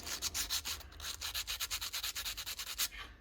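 Rapid, rhythmic rasping strokes as the sharp edges of a homemade whistle are rounded off and smoothed, about six strokes per second, close and fairly quiet, with no talking.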